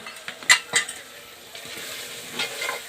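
Chicken curry pieces fry in a pan while a metal spoon stirs them, giving a few sharp scraping clinks over a soft continuous sizzle.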